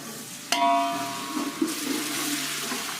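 Water is poured into hot spice masala frying in a pan for kadhi, and a sharp hiss bursts up at once, then settles into a steady bubbling sizzle with a few pops, close by.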